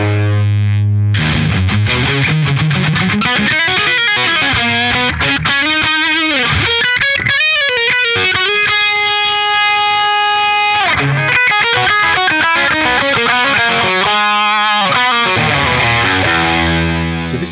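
An electric guitar plays through a Boss overdrive/distortion pedal, giving heavily distorted, sustained notes and chords with sliding pitch runs and bends, loud and close throughout with no talking.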